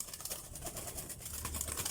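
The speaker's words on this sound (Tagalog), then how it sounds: "Magandang kalapate" Soft, low cooing from a pet pigeon close by, a steady murmuring call running through the whole moment with no voices over it.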